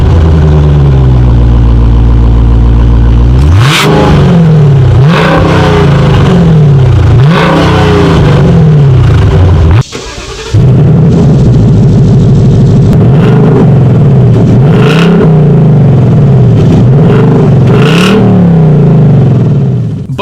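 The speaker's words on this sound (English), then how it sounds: "Let me just play for you the exhaust clips of my previous reviews" A 2019 Dodge Challenger Scat Pack and a 2019 Ford Mustang GT rumble loudly at idle, then rev repeatedly in sharp rising bursts with deep exhaust burble between, with one brief drop near the middle.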